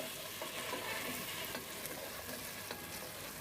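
Eggs dropped one by one into a spiced masala sizzling in oil for Bengali egg korma, giving a steady, fairly quiet crackle and frying hiss with small spits and stirring noises throughout.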